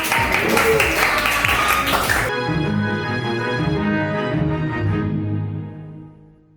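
Classroom applause for a student group coming to the front in an Indonesian lesson, a dense loud burst of many hands that cuts off sharply partway, leaving a tonal ringing that fades out.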